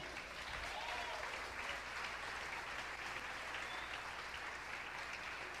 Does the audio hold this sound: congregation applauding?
yes